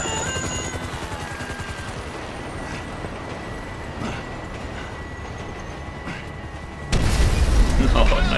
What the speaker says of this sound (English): Chopper! Incoming! Always hated that chopper.